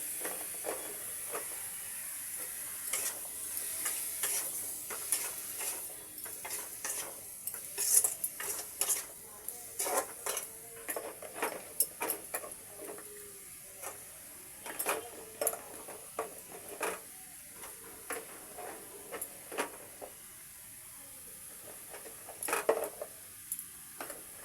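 Radish and potato curry stirred in oil in a pan, with a soft background hiss and a run of repeated spoon scrapes and taps against the pan, some louder than others.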